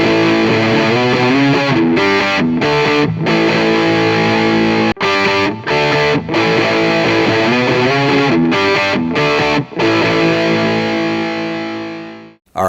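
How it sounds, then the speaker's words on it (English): An electric guitar played through a Northern Lights germanium treble boost pedal, with loud, continuous distorted chords and short choppy breaks, ending on a ringing chord that fades out. "So I'm just going to play the same thing on each 3 of the settings"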